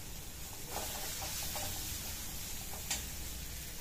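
Spice masala sautés in a pan for a jackfruit curry, a faint, soft sizzle with a few light stirring scrapes and taps.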